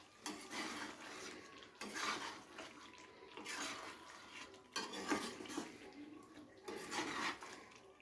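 Spicy chicken curry stirred in a lidded pot, with a utensil scraping and clattering against the metal in repeated bursts at moderate level, plus faint watery sloshing; no speech.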